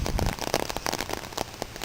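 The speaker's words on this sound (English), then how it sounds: "Now it's raining pretty heavier now." Heavy rain drums steadily on a one-person umbrella, a dense close patter of drops with scattered louder splats, no voices.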